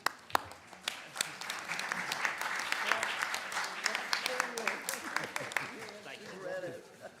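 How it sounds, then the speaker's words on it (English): A room full of people clapping at a parliamentary assembly plenary session, sustained applause with sharp individual claps standing out, close and fairly loud, fading toward the end. "So I think that's a clap."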